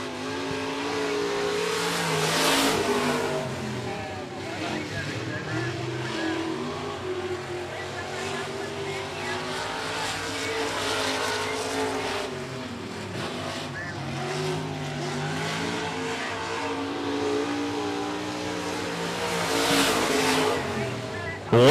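Race cars roar around the 105 Speedway oval in a dense, continuous drone that swells and fades as the pack passes, under steady race commentary.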